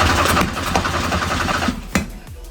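A Honda-powered Porsche 911 engine cranks over with a rapid, rhythmic mechanical chatter from the starter and engine, close and loud, ending in a couple of sharper knocks as the cranking stops.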